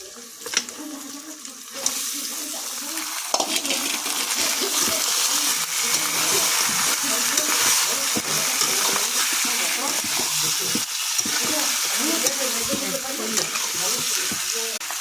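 Country chicken meat dropped into a pan with fried onions, bursting into loud, close sizzling and crackling that continues steadily as the pieces fry.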